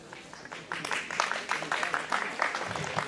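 Audience clapping at a community day-out event, a steady patter of many hands filling the room with some voices mixed in.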